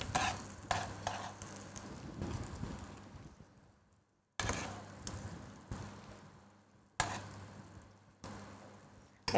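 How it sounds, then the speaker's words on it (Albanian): A spoon scrapes and stirs minced meat in a dish, three separate bursts of scraping and clinking near at hand, each trailing off into quiet, with no talk. "Një lugë, ja, që të hedhim mishin e grirë fillimisht."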